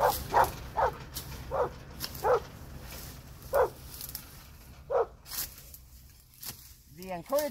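A dog barks about seven times in spaced, sharp bursts, fairly close, outdoors where land is being cleared for a hut's solar panels, with a few faint other sounds between barks.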